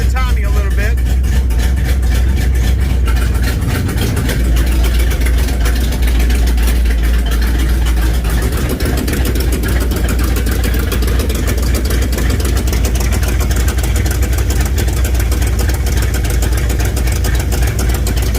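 A 1968 Dodge Charger R/T V8 fitted with a Holley Street Dominator intake idles close and loud, a steady low rumble that lasts throughout, with someone talking over it.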